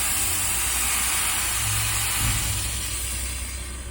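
Cat 3406E diesel engine of a W900 dump truck heard from inside the cab, a continuous loud low drone with a slight swell in revs midway, no talking.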